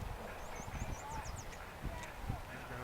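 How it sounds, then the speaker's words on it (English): Outdoors at a waterside spot, a Canada goose gives a short series of honks at moderate distance, heard over low background rumble and faint outdoor noise. "Here we have the ubiquitous Canada goose."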